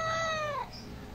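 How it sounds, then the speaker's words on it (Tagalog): A house cat gives a single clear, drawn-out meow close by in a room, fading out after about half a second into a quiet indoor hum. "nakikipag-unahan yung pusa ko"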